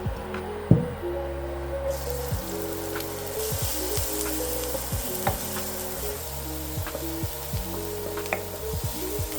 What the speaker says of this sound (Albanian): Do të përgatisim një qep, do ta skuqim në zjarr